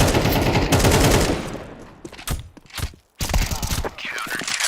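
An AK rifle fires in a video game in loud, rapid automatic bursts with short pauses between them, heard close and dominant throughout.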